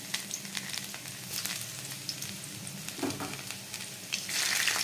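Chopped garlic sizzles and fries steadily in a hot pan while baked eggplant bharta is being made. It is moderately loud and continuous, rising near the end. There is no talking.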